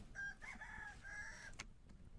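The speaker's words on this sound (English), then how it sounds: "Oh, no, we got a rooster in there." A rooster crows once in a video game farm, a clear multi-part cock-a-doodle-doo at modest volume over a low background rumble, followed by a soft click.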